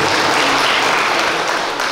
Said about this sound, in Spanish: Vamos a darle un fuerte aplauso para felicitarla.